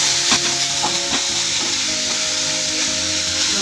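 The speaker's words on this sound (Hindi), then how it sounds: "अब इसमें ग्रीन मिर्च डाल रही है, थोड़ा सा इसको बस मिक्स करेंगे" Mustard greens bhujiya stirred in a pan as green chilies go in, a close scraping stir with a few knocks over a steady sizzling hiss.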